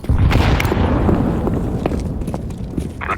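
A grenade blast in the shooter game CS:GO, a loud booming burst at the start with rumbling debris and scattered sharp crackles fading over a few seconds.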